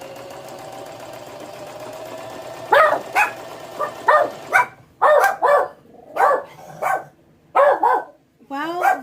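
Several dogs bark in a burst of sharp, repeated woofs close by, following a steady mechanical hum like a running sewing machine in a home crafting room.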